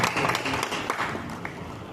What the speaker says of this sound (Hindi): मैं चाहूंगा मेरे भाई के नाम पे एक ताली हो जाए.